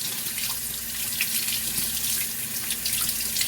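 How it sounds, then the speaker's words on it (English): St Vincent sea moss rinsed under a running tap to wash off salt, a steady close hiss of flowing water that does not let up. "Make sure you rinse off some of the salt"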